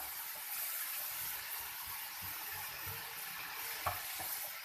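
Spiced vegetable filling for box patties stirred over a high flame in a hot pan, a soft steady sizzle with faint scraping strokes throughout, fairly quiet and close.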